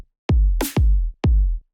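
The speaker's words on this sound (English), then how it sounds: "I'm going to be using a little bit of a hip hop beat right here." A programmed hip hop beat in Ableton Live: three heavy, booming kicks in a slow steady pulse, with a sharp snare-like crack layered between the first two, dry and close with no voices.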